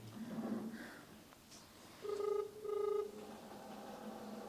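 A few soft clicks are followed by two loud, steady electronic tones, like a phone dialing and ringing, with faint murmuring at the start.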